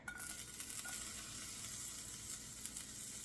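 Fresh garlic sizzles in a tablespoon of olive oil in a cast iron skillet, a close, even crackle that carries on without talk.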